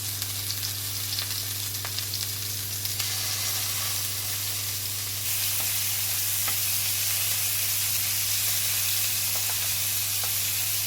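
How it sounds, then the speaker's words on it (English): Lamb koftas sizzle and fry steadily in hot olive oil in a large frying pan, a continuous close hiss with occasional crackles, a low steady hum underneath, and the sizzle growing denser and brighter partway through. "In a large hot pan we need a drizzle of olive oil, and when the oil is nice and hot we're going to brown our koftas."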